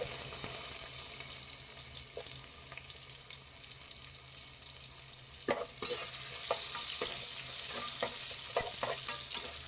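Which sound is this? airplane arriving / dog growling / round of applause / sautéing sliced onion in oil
sautéing sliced onion in oil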